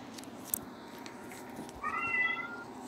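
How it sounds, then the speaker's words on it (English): A cat in London meows through a live stream, a short faint cry early on and then a clearer drawn-out meow near the end, set against quiet room background. "Hey, you guys hear that? That's my cat in London."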